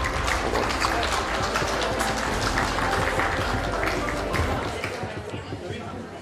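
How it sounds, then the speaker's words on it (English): An audience at a women's conclave and awards event gives a loud, sustained round of applause welcoming Shashi Tharoor, dense clapping from a crowd that fades slightly toward the end. "Let's welcome with a loud round of applause"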